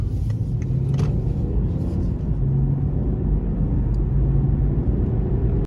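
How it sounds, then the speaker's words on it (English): A BMW 540i M Sport engine pulling hard under acceleration, a loud low rumble and drone heard from inside the car, rising steadily before cutting off. "here's a short little pull in the 540i M Sport"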